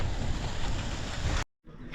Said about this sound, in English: it's raining and raining and raining